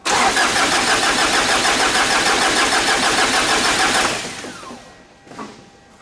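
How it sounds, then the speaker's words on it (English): A Ford Ranger / Mazda BT-50 diesel engine cranks loudly and steadily without catching for about four seconds, then the starter winds down and quiets, followed by a brief faint thump. "We cranked it about 10-15 seconds or so."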